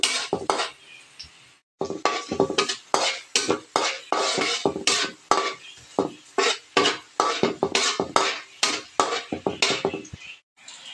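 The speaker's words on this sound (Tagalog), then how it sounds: "Igisa po natin ang bawang, sibuyas at luya." Garlic, onion and ginger are sautéed in a pan for Filipino ginisang sardinas with kangkong, a close run of sharp, rhythmic clanks and scrapes of a utensil against the pan over a low sizzle.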